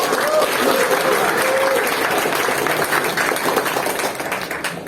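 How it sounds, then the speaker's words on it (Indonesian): An audience at the opening of a national seminar at a Muhammadiyah university in Tangerang applauds the lecturers with steady, dense clapping throughout, a crowd of many hands fading slightly toward the end. "Kasih aplaus bagi para dosen."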